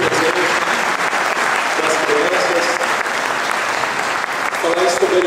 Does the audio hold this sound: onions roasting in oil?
no